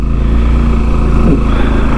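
A loaded motorcycle sets off on a road trip, its engine running loud and close with a steady low drone throughout and no talk.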